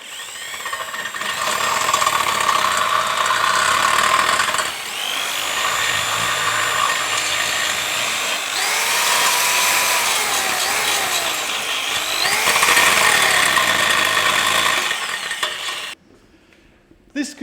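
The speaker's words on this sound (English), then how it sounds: "I'm just going to run around them with a drill bit" A power drill whines continuously, grinding and changing pitch as a drill bit cleans out rusty subframe bushing holes on a Ford ST220, then cuts off abruptly near the end.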